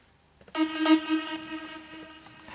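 A bright, buzzy synthesizer lead from the Nexus preset Detuned Lead 6 sounds alone, a sustained detuned tone with a few quick note accents, moderately loud after a quiet start.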